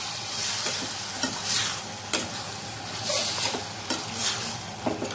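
Snake gourd and boiled chana dal kootu gets mixed in a hot pan, spatula scrapes and clinks over a constant sizzle, close up, in rhythmic bursts of stirring.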